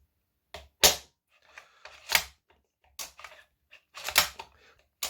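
Worker Prophecy toy blaster being fired and handled, a series of sharp plastic clicks and snaps spaced irregularly, close and fairly faint against near silence.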